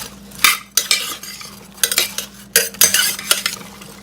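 A spoon stirs pork chops, onions and apples in a slow cooker pot, producing uneven scraping swishes and sharp clinks against the sides, close and fairly loud, with no talking.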